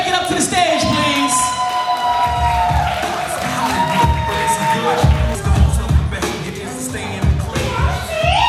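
A poetry slam crowd at moCa cheers, whoops and claps as a poet walks up to the stage, with shouts and voices layered over a busy, loud mix of clapping and low rumble.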